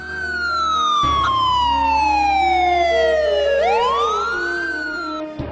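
An ambulance siren wails loud and close, one long falling sweep before the pitch jumps and rises again, with a low vehicle rumble beneath and no talk.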